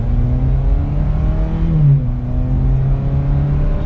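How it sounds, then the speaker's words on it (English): A 2022 Chevrolet Camaro 1LT engine pulls under throttle with a steady, loud drone that rises in pitch partway through and then settles, heard close up with no talking. "let's just give it some gas and see how this engine performs."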